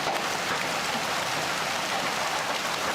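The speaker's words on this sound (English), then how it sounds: "Are you afraid of the rain?" Steady rain hisses continuously and fairly loudly, an even broadband wash of falling water with no voices or other sounds.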